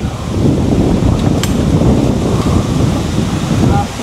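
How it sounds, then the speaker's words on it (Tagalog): Strong, steady wind on Mt Makiling roars and buffets the microphone throughout, loud and close with no pauses. "Ang lakas ng hangin, ang sarap."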